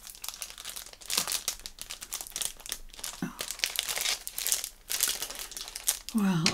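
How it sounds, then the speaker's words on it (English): A cellophane bag crinkles and tears as someone struggles to open it, with bursts of crackly rustling that come and go over several seconds, close and fairly loud, and brief vocal sounds in between. "I've never known a cellophane bag be this blinking strong, ever, ever."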